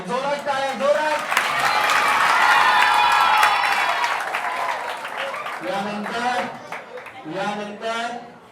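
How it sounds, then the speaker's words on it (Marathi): An audience at a prize distribution ceremony bursts into loud, sustained applause and cheering that swells and then thins out, with voices heard over the clapping toward the end. "जोरात टाळ्या, जोरात"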